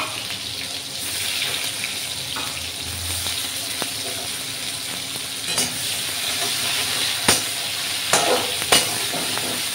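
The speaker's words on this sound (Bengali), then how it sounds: "টমেটোটা ভাজা হয়ে গেলে দেখো টমেটোটা আমার বেশ সুন্দর ভাজা হয়ে গেছে।" Tomatoes frying in a pan, a steady broadband sizzle running the whole way with occasional sharp clicks and scrapes of stirring, close and moderately loud, no talking.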